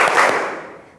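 A class claps in unison during a counting game, one sharp, loud group clap up close that rings out and fades within a second.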